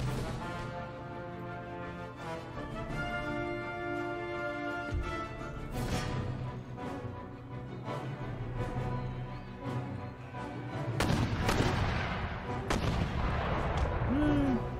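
Demi-cannon artillery in Empire Total War fires in repeated booming blasts alongside scattered gunshots, some near and some distant, over continuous battle ambience and game music.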